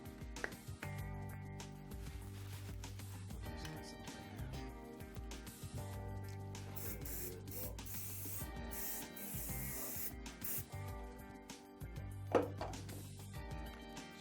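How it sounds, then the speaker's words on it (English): Hairspray hisses from an aerosol can onto a man's hair while a hair system is styled and set, a steady close spray over continuous background music. "Just gonna grab a little bit of a hairspray."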